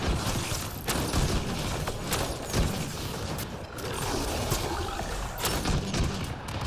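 Flak cannon fire in the video game Mass Effect Andromeda, dense bursts of heavy shots and explosive cracks repeating throughout amid continuous loud combat noise.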